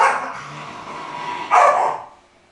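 A single dog barks, a short loud yap followed by a brief sharper bark, up close with no talking.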